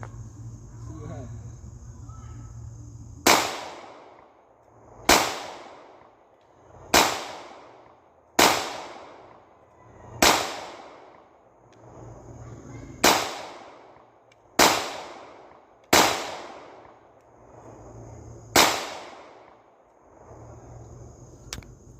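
Nine loud, sharp shots from a Ruger 5.7 pistol ring out one at a time at irregular intervals, each with a short decaying echo, over faint background noise.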